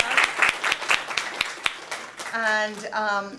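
Scattered applause for a student at a college art gallery faculty exhibit, starting as a few distinct claps, then a voice speaking over it before the clapping fades.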